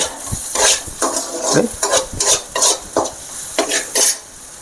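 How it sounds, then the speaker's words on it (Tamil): Masala spices with salt, garam masala, chilli and coriander powder are stirred and fried in a pan, giving loud rhythmic scraping strokes about twice a second over a sizzling bed, close up and without speech. "மசாலா எல்லாம் நல்லா வதங்கி வந்துட்டு இப்போ நம்ம அந்த முட்டையை ஊற்றிக்கலாம்"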